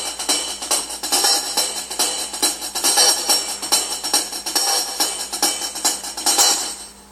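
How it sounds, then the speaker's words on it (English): Dubstep hi-hat pattern programmed in Soundation, playing as a steady run of crisp, bright ticks with a quick repeating rhythm. It sounds close and alone, without talk. "The next thing that I have is called hi-hats."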